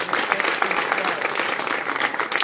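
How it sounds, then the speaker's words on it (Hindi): An audience claps for a local MLA at a Hindi poetry gathering (kavi sammelan) in Sironj, Madhya Pradesh, producing dense, steady applause from a crowd that fills the whole moment. "एक बार अपने विधायक के लिए ताली बजाओ।"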